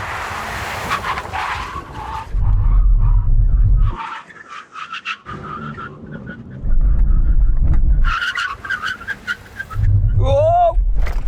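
A BMW estate car brakes hard in a brake test during a drag race, with a loud engine surge and roaring bursts as the car accelerates and stops, repeated several times, plus brief tyre noise and a voice at the start.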